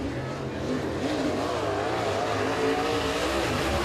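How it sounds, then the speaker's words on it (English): A super late model race car rolls onto the track at Eriez Speedway with a continuous, throaty engine drone that holds steady at a moderate distance, with no voices. "first car coming out in the 75"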